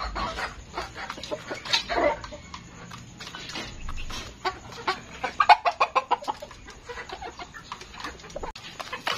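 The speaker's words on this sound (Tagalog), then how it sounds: "Bulik na tumitilaok na." A backyard rooster crows close by, with hens clucking and scattered fowl chatter around it. Sharp bursts and quick, irregular clucks fill the yard with no talking.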